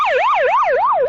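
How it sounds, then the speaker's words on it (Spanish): Fire engine and ambulance sirens wail loudly and close, a rapid rising-and-falling electronic sweep repeating about every quarter second, heard alone. "Los sonidos de las sirenas, de los bomberos y de las ambulancias"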